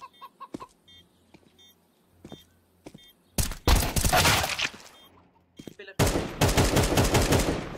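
Gunfire in Counter-Strike 2 erupts in two loud, dense bursts after quieter scattered clicks and short beeps, with no talking over it.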